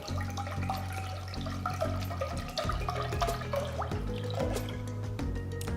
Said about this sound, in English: Take a nice pot, add enough water for blanching.